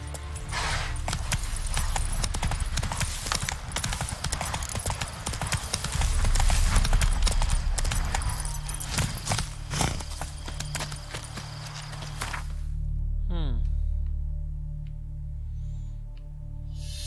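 Roach the horse gallops in The Witcher 3, with rapid rhythmic hoofbeats for about twelve seconds over a rumbling background before the hooves fade and a low ambient hum is left.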